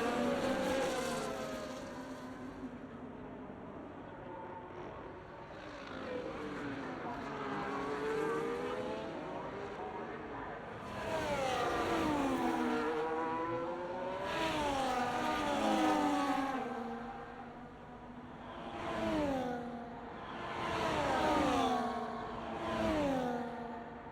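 Race car engines in a Mexico round of a racing game, a McLaren among them, whine and rev up and down in repeated sweeping pitch bends, loud and near, with a steady high tone beneath and no talk.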